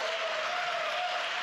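Audience applause for athletes at a college sports awards ceremony, a steady roar of many hands in a large hall with a faint sustained tone running through it.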